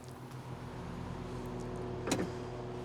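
A power window on a 2022 Mercedes GLC 300 runs in one-touch mode as a steady low electric motor hum, ending in a brief soft thump as the glass seats near the end.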